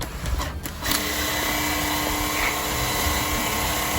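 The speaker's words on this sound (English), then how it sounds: "if you've got 20 volt DeWalt and you just want to do quick cleanups" A DeWalt 20 volt cordless power cleaner blowing on its low setting, a steady whirring motor hum with airy hiss that starts up after a brief uneven moment and runs evenly close by.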